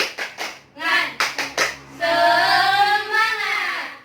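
A classroom of children claps a rhythmic 'tepuk semangat' routine, sharp grouped claps in a quick pattern, followed by the class chanting together in a sustained, loud chorus.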